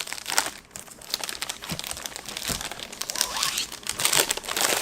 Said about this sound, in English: Sounds like I'm taking the wrapper off a piece of candy here.